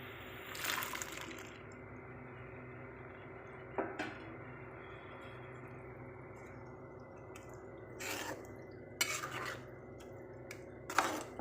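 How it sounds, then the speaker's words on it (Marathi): Cooked white peas tipped into a pan of sautéed masala and stirred, giving a few scattered clinks and soft wet scrapes of a spoon against the pan over a quiet kitchen background, with no talk. "आता यामध्ये मी हे शिजवलेले वाटाणे घालून घेते."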